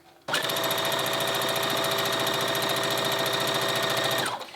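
A sewing machine runs a straight stitch through knit fabric, starting abruptly and buzzing in a fast even mechanical rattle for about four seconds before stopping, close and loud.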